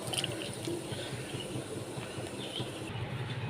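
Cut brinjals rinsed in water for a hilsa curry, giving a steady wash of splashing and trickling that runs through the whole stretch, with small clinks of vegetable pieces against the bowl and no talking.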